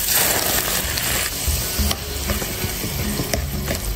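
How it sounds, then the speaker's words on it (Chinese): Hot oil poured over chili flakes, sesame seeds, minced garlic and sliced chilies crackles into a loud, close, continuous sizzle with bubbling pops throughout, no voices. "泼上热油，"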